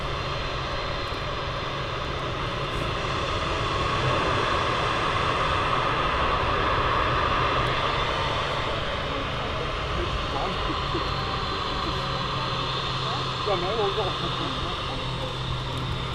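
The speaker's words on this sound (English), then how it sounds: "Taking her time, the Dreamliner." A Boeing Dreamliner taxis slowly at Manchester Airport, giving a steady broadband engine roar with a faint whine, held at an even level throughout and likely carrying some talk over it.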